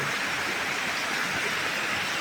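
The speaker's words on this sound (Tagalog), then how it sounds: "Ito yung isa sa malakas na ulan. Dito sa Dasma." Heavy rain pours steadily in Dasmariñas City, Cavite, a dense, even wash of hiss that holds at the same level throughout with no voices over it.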